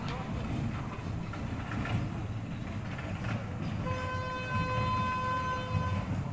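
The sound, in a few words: toy train running in a children's park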